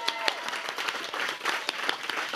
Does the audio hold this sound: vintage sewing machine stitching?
no